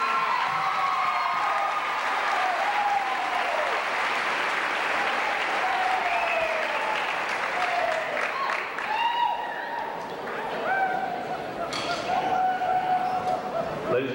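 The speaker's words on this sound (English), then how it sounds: "Ladies and gentlemen, a nice round of applause for these seniors." A high school basketball gym crowd at Okawville's 1987 senior night against Althoff applauds the seniors with steady, sustained clapping and some cheering, while an announcer's voice carries over the applause.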